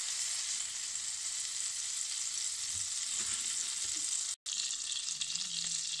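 Butter sizzles and fries in a kadai for paneer butter masala, a steady fine crackling hiss that carries on throughout at moderate level, with soft stirring scrapes and one brief dropout near the end.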